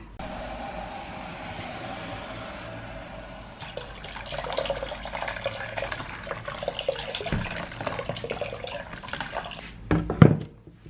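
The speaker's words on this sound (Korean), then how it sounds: "제일 먼저 해야 하는 건 티셔츠를 뜨거운 물에 적셔야 돼요." Hot water runs steadily from a tap to soak a T-shirt for tie-dyeing, rushing after a quieter opening, with splashing and a sharp knock near the end.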